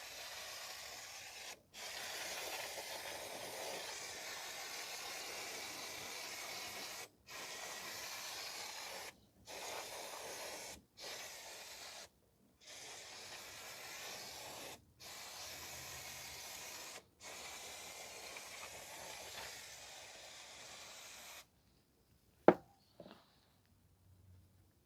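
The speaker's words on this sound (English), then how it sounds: "you can spray some brake cleaner again to clean everything off." Brake cleaner sprayed from an aerosol can onto the rear drum brake of a 2014 Chevrolet Sonic 1.8, a long run of steady hissing bursts broken by short pauses, followed by a few faint clanks.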